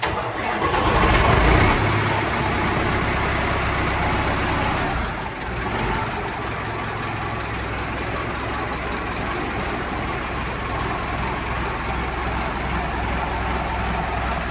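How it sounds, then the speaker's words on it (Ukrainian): A YuMZ tractor with an SMD engine cranks and catches on its first start, roaring up loudly before settling into a steady, rumbling idle that continues without voices. "Перший раз заводиться."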